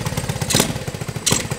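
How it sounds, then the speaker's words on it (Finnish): A 125cc mini motocross bike engine fires up on choke and settles into a rough, uneven idle, with pulsing low chugs and two brief louder revs close by, no voices. "kyllähän se lähtee käyntiin starttikaasulla"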